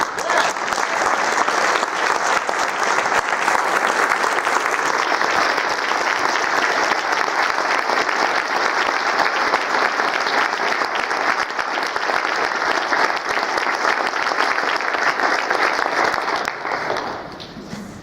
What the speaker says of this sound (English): give her father, Gary Curry, a warm round of applause